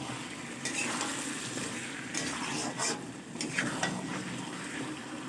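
Cabbage rui fish curry with potato, tomato and peas stirred in a pan, a steady close sizzle and frying hiss throughout with occasional scraping clinks of a utensil against the pan.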